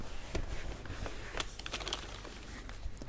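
Fingers type on a non-mechanical computer keyboard with soft, irregular clicks and muted taps, close by and fairly quiet over a low background hiss, with no one speaking.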